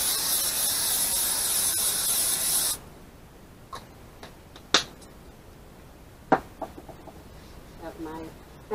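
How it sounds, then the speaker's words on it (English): A steady hissing spray runs for a few seconds and stops abruptly, followed by scattered light clicks and taps in a quiet room. "12 inches above, and you just spray."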